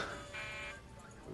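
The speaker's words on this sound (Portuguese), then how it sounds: "Espero que sejam apenas alarmes falsos." A cockpit warning alarm aboard an Air Canada Flight 143 airliner sounds as a faint steady buzzing tone, swelling briefly in the middle and lasting about a second.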